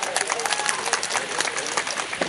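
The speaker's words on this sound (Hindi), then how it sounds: "बहुत बहुत शुक्रिया आपका इस कमज़ोर तालियों के लिए" A crowd claps continuously at a poetry gathering (kavi sammelan and mushaira) in Qadipur Sultanpur. The applause is bright and close, with a faint voice mixed in.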